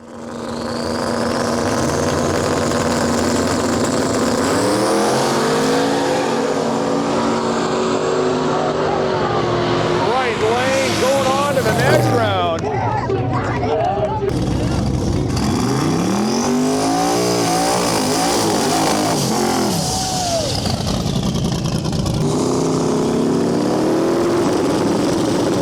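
A drag race car with twin 7675 turbos, a Turbo 400 transmission and a Carter's Engines build tuned by Able Racing runs loud and close, its engine roaring in repeated rising and falling revs; a voice talks over it.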